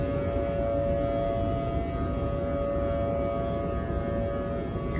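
Thunderbolt civil defense siren in a simulated emergency alert scenario, a loud, continuous tone that holds steady with a dense low roar beneath it, with no talking over it.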